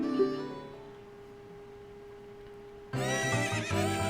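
A horse neighs in Ocarina of Time HD at a ranch where horses are offered for rides for 10 rupees. A faint whinny sounds early, then after a long steady tone a loud, bright neigh cuts in near the end.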